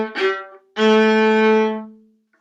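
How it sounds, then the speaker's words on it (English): A viola plays a short bowed note, then a longer accented note that swells and fades, clear and close, with no one talking. "I'll just demonstrate them to you, so you hear how the staccato and the accent sound."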